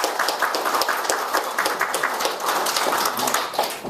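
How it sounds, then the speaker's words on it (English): Loud, steady audience applause for a solo pianist after a movie-theme piece, many hands clapping close and continuous throughout. "Let's give him a big round of applause."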